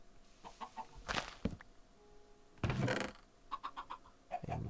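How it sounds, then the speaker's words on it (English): Chickens clucking in Minecraft, several short bursts of blocky clucks scattered across a quiet background, with a couple of louder close clucks standing out among fainter ones. "Alright, we have more chickens."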